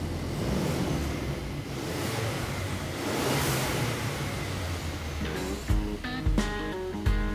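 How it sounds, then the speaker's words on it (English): A 2019-2020 Ford Ranger on its stock exhaust with an aftermarket tip sits at a steady idle rumble, then blips the throttle in several short, sharp revs near the end. "I'll give you some sound clips of the before exhaust as well."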